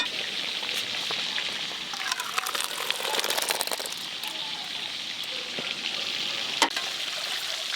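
Fish heads fry in mustard oil in a pan, giving a steady, close, rain-like sizzle throughout, with scattered crackles and spits and one sharper pop near the end; no talking.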